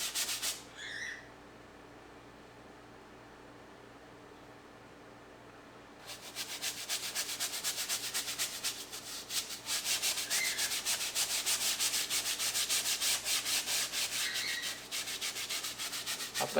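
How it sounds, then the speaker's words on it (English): Paintbrush rubbing thin liquid white onto a stretched oil-painting canvas: a steady, dry scrubbing rasp with quick back-and-forth strokes that starts after a quiet stretch and runs on, fairly close, with faint bird calls in the background. "they don't like the sound of this brush rubbing this canvas"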